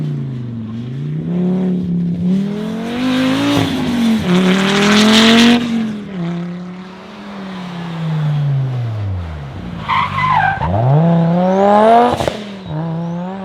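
A 1985 Audi Sport Quattro S1 E2 rally car, 2.1-liter five-cylinder turbo, drives hard in a rally simulator, its engine rising and falling through gear changes with loud tire squeal and skidding, close and continuous throughout.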